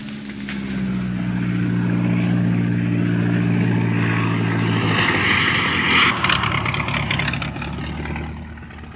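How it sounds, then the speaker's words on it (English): A propeller airplane drones loudly overhead, its engine tone rising and shifting as it passes close by, with no talking. "The plane flies in men and supplies"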